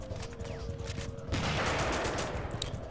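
Dense, sustained gunfire in a Spanish-language war video game against a resistance force, rising into a louder, continuous barrage halfway through, with no talk over it.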